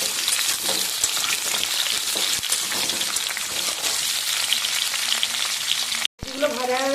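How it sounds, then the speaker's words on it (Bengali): Drumstick stems frying in oil for Bengali shukto, a steady, dense hiss of sizzling oil that stays loud and close almost throughout, with a brief gap near the end. "শুক্তোর সঙ্গে ডাঁটাগুলো ভেজে দিতে হয়"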